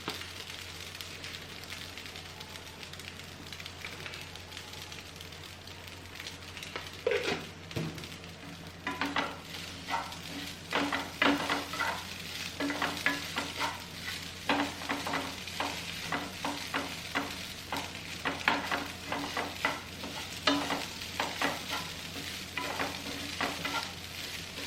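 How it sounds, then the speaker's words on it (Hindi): Idli upma being stirred in a hot pan, a soft sizzle with repeated close scraping stirs that grow busier and more rhythmic after the first several seconds. "अब मैं इसे मिला लूँगी अच्छे से"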